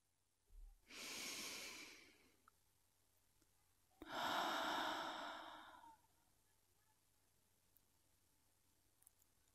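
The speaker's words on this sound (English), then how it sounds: "Sound of breathing." Two slow, heavy breaths, each a long airy exhale lasting about two seconds, close and quiet against near silence with a pause between them.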